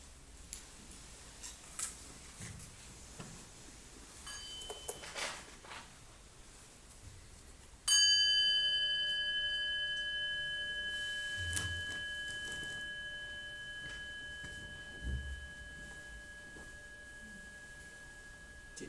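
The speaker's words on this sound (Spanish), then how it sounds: "So we will enjoy a sound of the bell." A single bell is struck once, ringing with a clear sustained tone that slowly decays over several seconds after a stretch of quiet room noise.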